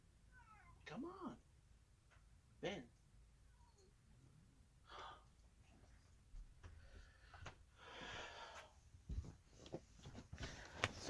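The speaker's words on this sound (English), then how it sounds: "that was my cat" A house cat meows several times at close range, short plaintive cries spaced between quiet pauses and brief spoken words, with a few louder rustling bursts near the end.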